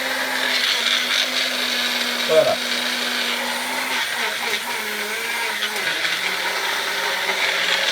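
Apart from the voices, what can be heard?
blender blending chunky cucumber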